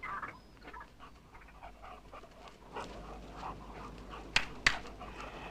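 Dog panting softly close by, a quiet rhythmic breathing over a low hum, with two sharp clicks near the end.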